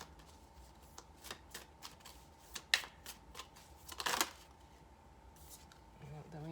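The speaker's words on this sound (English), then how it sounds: "let's get the rest of the cards out" Tarot cards are handled and laid out close by, with a few soft shuffles, flicks and taps spread unevenly through the quiet.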